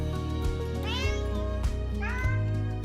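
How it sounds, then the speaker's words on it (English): A cat meows twice, loud and close, with rising wavering cries over background music. "You don't have to speak cat to know what this cat is saying."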